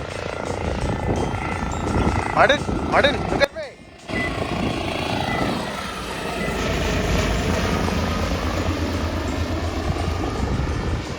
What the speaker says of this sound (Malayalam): ആദ്യം ഉയർന്നു പോകുന്ന ഹെലികോപ്റ്റർ